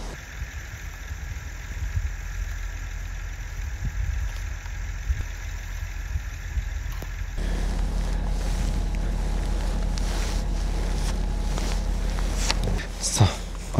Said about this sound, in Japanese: 風が吹いてかなり舞ってきました。